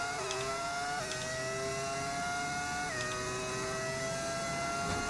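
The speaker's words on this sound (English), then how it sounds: "I get to listen to the engine." Lamborghini Formula 1 car engine in the F1 25 racing game, a steady high-pitched whine with harmonic pitch steps as it shifts through gears, continuous and fairly loud with no talk.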